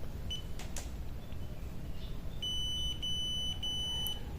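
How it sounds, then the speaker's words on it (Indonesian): A Yi action camera with no memory card inserted emits thin, high electronic beeps, a short chirp early and then a sustained tone with repeated pulses, heard close over a faint steady hum. "dikarenakan ini tidak ada memorinya, jadi dia berbunyi bipnya seperti itu"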